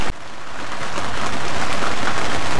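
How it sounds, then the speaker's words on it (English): Steady, dense hiss of heavy rain pouring down, close and loud, continuous for the whole stretch with no voices. "It is almost pouring down here"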